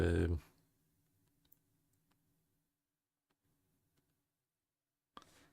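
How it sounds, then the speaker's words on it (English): Keyboard typing comes as sparse, faint clicks and taps scattered across a quiet stretch, irregular and close, framed by louder bursts at the start and end. "So I'm trying to type."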